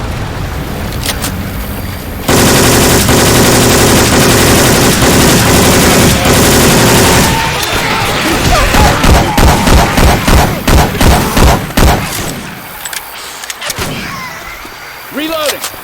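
Syphon Filter weapon sounds swapped into Left 4 Dead 2, loud and close: sustained machine-gun fire, then a run of separate heavy shots in a steady rhythm, tapering into scattered rattles and clanks near the end.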